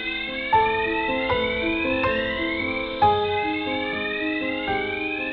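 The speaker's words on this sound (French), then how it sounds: "cette alarme qui surgit comme un cri et sonne des heures durant sans que rien ni personne ne puisse l'arrêter" An electronic alarm at a blast furnace in Florange sounds loud and continuous, with repeated rising tonal sweeps restarting every second or so, alone with no voices.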